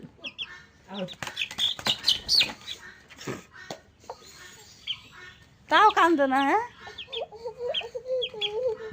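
Chickens cluck in short, uneven bursts close by, mixed with a voice and adults talking over them.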